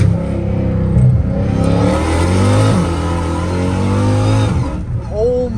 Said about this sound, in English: First gear pull. I'm gonna do a first gear one.